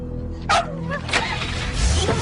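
Dog inside a house gives a couple of short yipping barks, somewhat muffled, over a low steady background hum.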